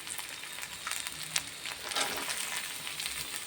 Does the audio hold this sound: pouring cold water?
no